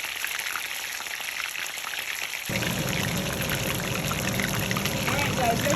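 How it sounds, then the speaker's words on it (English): Jamaican brown stew fish frying in a pan, a soft crackle that swells into a fuller, louder sizzle partway through and then holds steady and close. "Let's fry them up."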